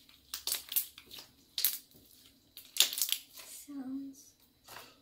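Clear glue slime, homemade and a bit sticky, crunching and crackling in several short bursts of squishy, crinkly pops close up, with brief pauses between squeezes.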